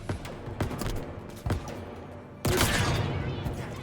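Skewer shots fired at a jackal in Halo Infinite, a few sharp reports spaced about a second apart, then a louder, longer blast with a rumbling tail.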